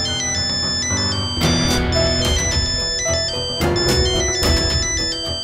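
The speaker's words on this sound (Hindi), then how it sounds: "घर से है फोन, बीवी का होगा, उठा लो," A phone ringtone sounds for an incoming call from home, a loud melodic tune with rhythmic beats that plays continuously with no voices over it.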